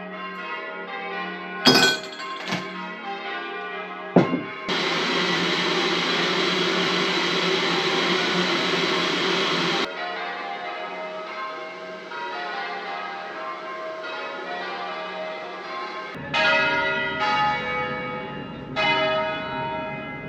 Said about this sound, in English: we'll get some more bells